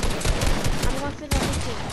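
Rapid video-game gunfire crackles in bursts through a busy mix, with a sharper shot near the end while players talk over it.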